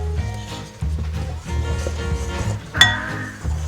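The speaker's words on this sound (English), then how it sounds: "You're just going to give it a very gentle mix just to incorporate those ingredients." Flour, baking powder and lemon zest stirred gently in a mixing bowl for a lemon drizzle cake, with soft repeated scraping and light clinks of a utensil against the bowl, one brighter clink near the end.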